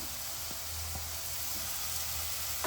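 Ginger and garlic sizzle softly in a pan of mushroom masala, a faint steady hiss with a couple of light knocks.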